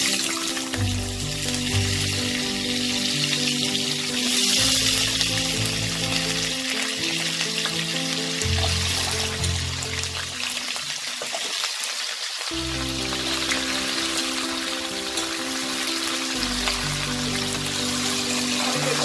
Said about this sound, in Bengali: ফোড়নটা দেওয়ার পর আমি এতে আলুটা ভেজে নিই।